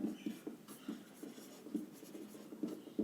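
Pen scratching on paper while a maths problem about a tower's height is worked out, a soft steady run of short strokes close by with no talking.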